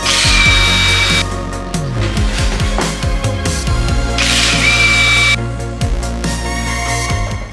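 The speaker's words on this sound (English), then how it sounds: "first thing we need to do is take off the wheels." An impact wrench or power drill whirs in bursts while lug nuts come off the wheels of a raised BMW F80 M3 during track day prep, loud and close, with clanks and rattles between spin-ups.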